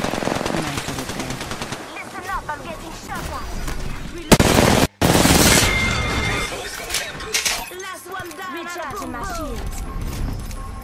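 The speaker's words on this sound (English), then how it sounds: "Listen up, I'm getting shot at." Rapid automatic gunfire in the video game Apex Legends, loud and near, with bursts and single shots crowding the clip over game sounds and voices, and a sharp loud blast just before the midpoint.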